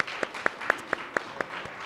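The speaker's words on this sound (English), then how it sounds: "Let's give them a round of applause" Applause at a school student leadership summit: a short, soft stretch of clapping with regular sharper claps nearby over a low wash of distant hands.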